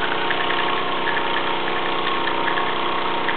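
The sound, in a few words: Luton PW203 and Plane L5 model steam engines running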